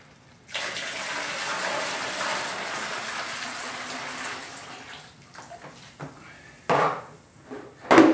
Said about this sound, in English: move our preheated water that we were preheating from mash tun over into our hot water tank